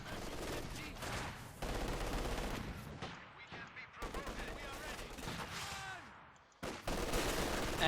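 Machine gun fire in the real-time strategy game Company of Heroes 2: several bursts of rapid gunshots rattle across the battlefield, mixed with other combat noise and a commentator's voice.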